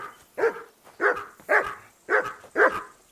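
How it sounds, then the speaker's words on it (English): A dog in Kingdom Come II barks five times in an even rhythm, each bark a sharp, mid-pitched woof, close and clear with short gaps between. "barking was a pain in the ass."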